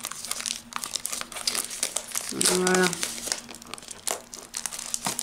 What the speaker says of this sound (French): je vais enlever aussi le blister au deuxième